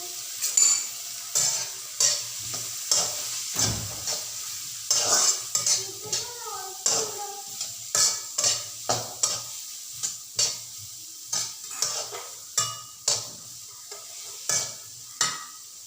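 Sliced onions fry in hot coconut oil in a Kerala cheenachatti, a steady sizzle broken by close, rhythmic scrapes and clinks of a spoon stirring against the pan, with no talking.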